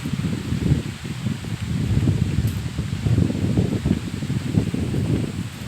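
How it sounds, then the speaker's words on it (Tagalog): Steady wind sweeps through tree leaves along an outdoor trail, making a loud, continuous rustle that swells and eases in gusts, with wind buffeting the microphone. "Mahangin ang lugar."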